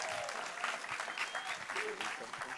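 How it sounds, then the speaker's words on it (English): Brief clapping from a conference audience for a guest's debut, heard faintly behind cheering voices and speech. "you got to clap for her"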